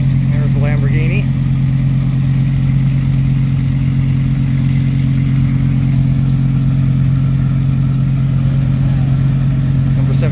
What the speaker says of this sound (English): I got a Lamborghini right here beside me. He's trying to get through